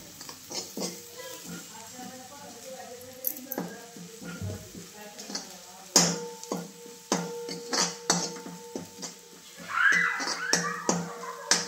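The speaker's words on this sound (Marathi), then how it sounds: "फोडणी चांगली परतली" Spatula scrapes and sharp clinks against a pan over a soft sizzle as mustard seeds, cumin and a ground paste of coriander leaves, curry leaves, garlic and coconut are fried in oil, in an irregular, close stirring rhythm with faint voice murmurs.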